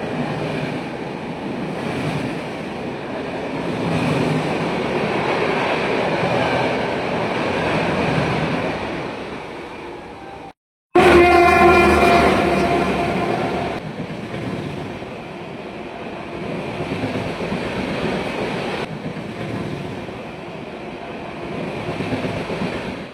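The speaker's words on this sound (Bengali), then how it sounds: "ভারতের সবচেয়ে লংগেস্ট জার্নি করা ট্রেন।" A loud, continuous rumbling roar of the Kanyakumari Vivek Express passenger train passing, sustained throughout with a brief cut near the middle followed by a burst of rattling and squeal.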